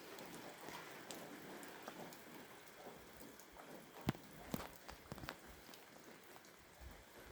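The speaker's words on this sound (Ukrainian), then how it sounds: "Тому що дощик саме такий, як треба. І не ливень що позаливає все на світі" Light rain falls steadily at night as a soft hiss, with a few sharper drips and taps standing out near the middle, quiet and without speech.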